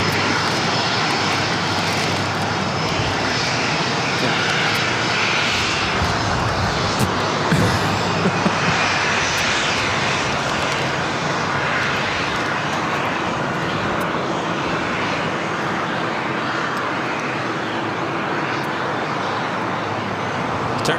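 An airliner taxis at Los Angeles International Airport, its engines holding a steady, loud, continuous roar with broadband whine that stays even throughout, with no voices over it.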